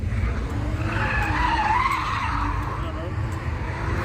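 Tires of a Mopar Hellcat or Scat Pack screech while sliding on a wet road on a rainy night, a loud sustained skid with engine noise underneath and voices talking over it.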